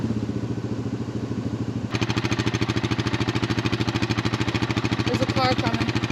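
Stock Yamaha Grizzly 700 ATV idling close by, a loud rapid exhaust putter that steps up in intensity partway through and keeps a steady pulsing rhythm.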